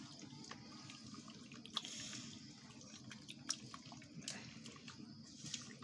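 Hands being washed under running water after mixing spiced chicken, cooking on a clay stove, with a steady faint splashing stream and a few small drips and clinks, no talking.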